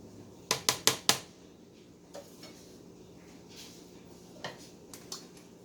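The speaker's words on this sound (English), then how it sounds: "Let's get all of this goodness off this spatula." A spatula knocks and scrapes peach cobbler filling off against a dish: four quick, bright clinks close together, then a few softer scattered taps and scrapes in a quiet kitchen.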